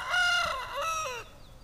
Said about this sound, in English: There's Zebra, the silky rooster.